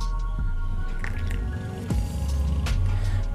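Small splashes and wet squishing sounds as water is poured into thick henna paste and mixed, close by, over a low steady background hum.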